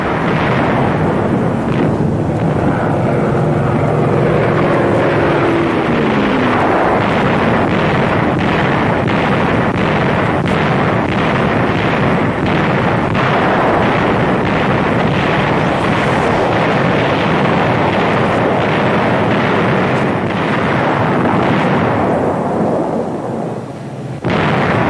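A German Me-109 fighter plane dives in 1944 wartime combat with a falling engine whine, buried in a continuous loud roar of explosions and rumbling blasts that never lets up.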